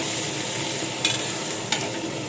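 Onions with a little salt sizzle steadily in a hot pan, a close, even hiss broken by two brief scrapes of a stirring spoon.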